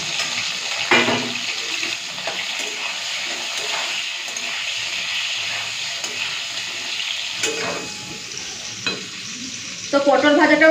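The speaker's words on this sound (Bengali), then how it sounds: "এখন পটলগুলো ভেজে নিই।" Pointed gourd (potol) sizzles loudly in hot oil, with steady frying hiss and occasional stirring scrapes and clinks.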